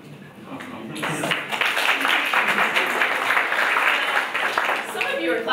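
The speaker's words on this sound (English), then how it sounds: "Some of you are clapping." An audience at a stage talk bursts into applause after a brief quiet moment, many hands clapping in a dense, sustained wash that fills the room for several seconds, with talk in the clip.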